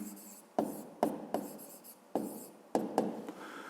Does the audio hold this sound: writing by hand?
yes